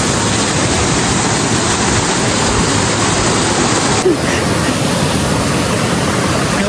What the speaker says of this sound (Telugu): ఇది కదా అసలైన వాటర్ ఫాల్స్ అంటే